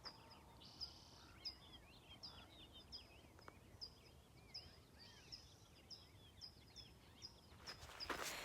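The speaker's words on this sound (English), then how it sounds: "And you can hear all the birds chirping and everything waking up." Faint birds chirp repeatedly in the distance at sunrise on the Pacific Crest Trail, short tweets spread steadily across a quiet outdoor background.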